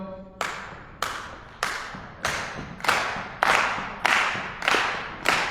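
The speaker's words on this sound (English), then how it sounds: "You're gonna give me a nice little stomp clap." Audience at a Black faith leaders' breakfast on climate justice doing a stomp clap: nine sharp, evenly spaced hand claps with thuds, loud and regular, no talking over them.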